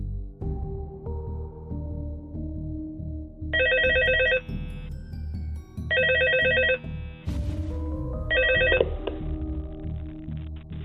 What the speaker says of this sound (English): Once we get into the night, we get a phone call from the phone guy.